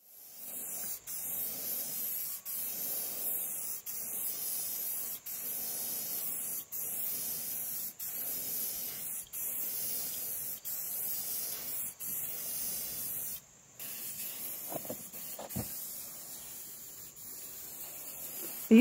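Rebar spindles being spray painted: a series of steady aerosol hisses in short repeated bursts with brief gaps, fairly close, followed by a few light handling knocks and rustles.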